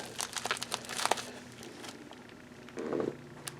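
Plastic and paper wrapping on a 1949 Tibet 10 srang coin crinkles and crumples in quick close bursts, then a softer rustle follows after a pause.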